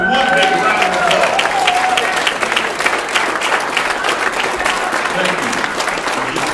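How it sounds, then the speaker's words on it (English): Church congregation applauding together, a loud, dense wash of clapping from a large crowd that stays steady throughout, with voices mixed in beneath. "somebody give us one big round of applause"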